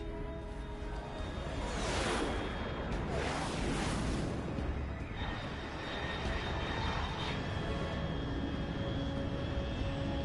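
A fast aircraft in Metal Gear Solid 3: Snake Eater, flying at high altitude, roars overhead as a loud, sustained engine rumble with a rushing sweep early on, then a steady drone that continues to the end.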